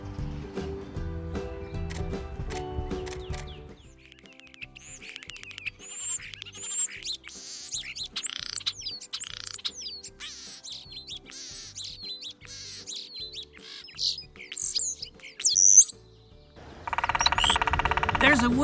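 A starling calls in a backyard with a run of thin, high whistles and chirps, rapid and varied, heard on its own between stretches of louder sound at the start and end.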